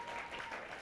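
Church congregation applauding at an anniversary worship service, a dense steady wash of clapping that fills the moment without a break.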